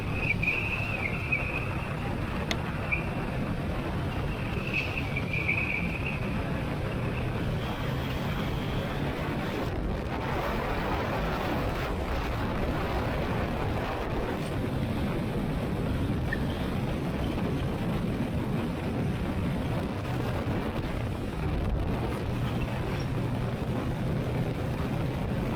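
Motorcycle ride down a highway captured on a strap-mounted action camera, heard as a steady roar of wind buffeting and road rumble running continuously throughout, loud and close with no speech.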